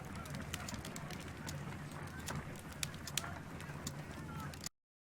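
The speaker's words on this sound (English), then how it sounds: "I'll hold a cab for us." Horse hooves clip-clop steadily beneath a gloomy Victorian night scene with a cab waiting near a railway station in Sherlock Holmes: Crimes and Punishments, a continuous moderate bed of hoof beats and ambient street noise with occasional sharp knocks.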